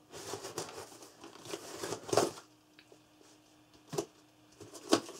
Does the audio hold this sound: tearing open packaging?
yes